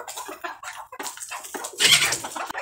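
Desi chickens drink water mixed with calcium medicine, giving short clucks and soft watery pecking sounds close by, irregular and unhurried, with no speech.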